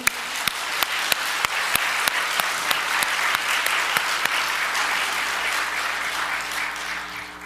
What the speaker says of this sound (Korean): 다시 영광의 박수.